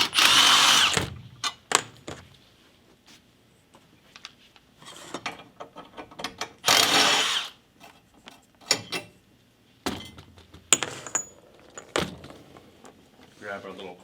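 Power tool driving 10 mm bolts into the bottom seat cover on the 40 side of a 2000–2002 Chevrolet Tahoe/Yukon second-row seat, heard as loud, separate bursts of whirring with pauses between them and talk in the gaps.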